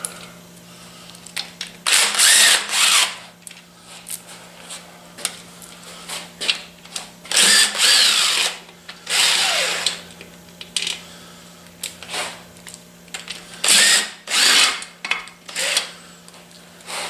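Bursts of an impact or power tool loosening bolts while pulling a 377 cubic-inch 18-degree engine, three or four loud whirring runs separated by pauses, with a steady low hum underneath.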